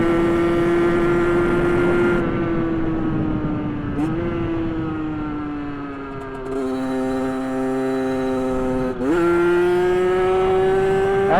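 A 50cc AM6 Euro 5 motorcycle engine, not yet run in, screams at high revs, holding a steady loud whine with brief dips and sharp climbs as the throttle is worked hard.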